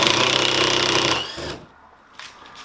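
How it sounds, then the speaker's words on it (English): A power driver backs screws out of the end of a hurricane hinge on a teardrop camper build, giving a loud, steady buzzing whir for about a second and a half before it stops, followed by a faint short burst. "Alright, now I'll take out these end screws"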